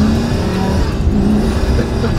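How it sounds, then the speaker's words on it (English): The V12 engine of a Pagani, heard from inside or close by, drones loud and continuous under acceleration, a dense, sustained roar with no pauses. "That's what the V12 does."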